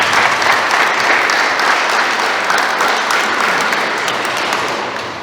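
Wedding guests applauding the newlyweds, a loud, dense and sustained round of clapping from a full room that eases off slightly toward the end.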